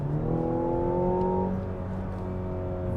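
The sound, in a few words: hybrid SUV engine accelerating and revving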